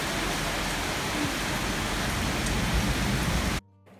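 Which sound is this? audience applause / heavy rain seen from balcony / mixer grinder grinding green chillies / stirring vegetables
heavy rain seen from balcony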